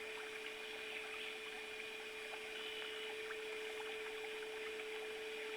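A stream on a nature trail flows steadily, a continuous broadband wash of moving water that stays even and unbroken from start to finish with no voices.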